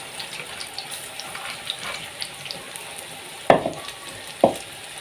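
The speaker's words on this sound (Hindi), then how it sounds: "थोड़ा सा ऊपर रख के फिर आपने पकोड़े डालने हैं" Pakoras fry in very hot oil, a steady soft sizzle and crackle across several seconds, punctuated by two sharper splashes as batter drops in, close and without talk.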